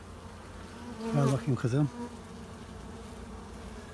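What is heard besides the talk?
honey bees buzzing around hive frames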